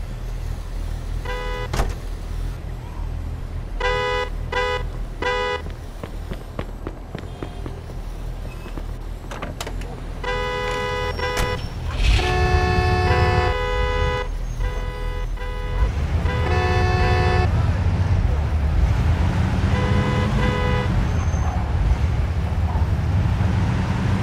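City traffic in the video game Mafia 2: car engines rumble steadily while several horns honk in repeated bursts, some short toots and some longer blasts, growing denser and louder toward the end.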